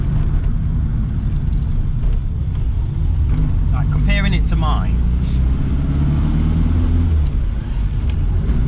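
A three-wheeler car drives along with a loud, continuous engine and road rumble from inside the cabin, while someone talks over it.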